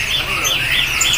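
A perkutut cemani dove calls in a bird market kiosk, with a short bright repeated call heard close up over shop background noise and nearby talk.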